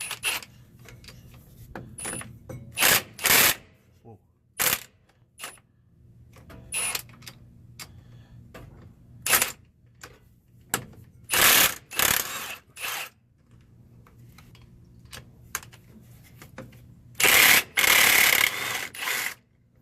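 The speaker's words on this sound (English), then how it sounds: "so we're going to take out these bolts right here" A ratchet wrench removes bolts from a Toyota center support bearing: repeated bursts of quick, close clicking ratcheting, separated by short quiet gaps.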